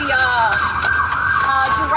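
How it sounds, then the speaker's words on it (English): Ambulance siren wailing in a city street in Savannah, a steady rising and falling tone that carries loud and continuous through the whole stretch, with faint speech mixed beneath it. "It looks like they had a medical run because I hear an ambulance."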